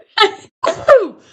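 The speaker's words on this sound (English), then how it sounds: "And I'm going to sneeze." A single loud, close human sneeze: a short sharp intake followed by an explosive burst and a falling vocal tail, alone without other talk.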